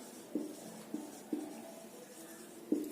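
Handwritten notes in a plant morphology lesson, with soft pen strokes scratching close by and four distinct taps or marks spaced through a quiet stretch with no talk.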